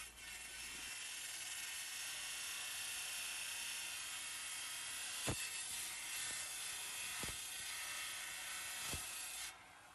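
A coarse lapidary saw blade grinds a stone cabochon preform with its edge, giving a steady, loud hissing whine broken by a few sharp clicks before the grinding cuts off near the end.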